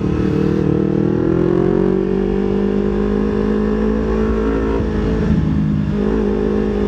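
A motorcycle engine revs and pulls hard, a loud steady drone rising in pitch as it accelerates up close, with no talk.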